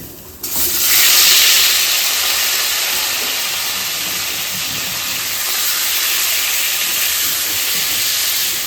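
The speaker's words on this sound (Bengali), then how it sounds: "তেল গরম হয়ে গেছে মাছটা আমি দিয়ে দিলাম" Fish dropped into hot mustard oil in a wok, an abrupt burst of loud, bright sizzling that then settles into a strong, continuous hiss with no talking.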